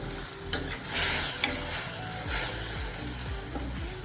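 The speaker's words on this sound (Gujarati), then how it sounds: "ટમેટાની કચાશ દૂર થાય ને ત્યાં સુધી આપણે એને કૂક કરી લેવાનું છે." Tomatoes cook down in oil for a hotel-style pulav, with a steady close sizzle, a few sharp utensil taps and scrapes, and a low background hum throughout; no speech.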